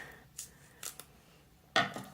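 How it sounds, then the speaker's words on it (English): A few short, quiet snips as scissors poke a hole through a paper craft indoors, three or four separate cuts spread across a couple of seconds, with a louder final snip. "a parent or adult in your house can help you poke a hole through using your scissors"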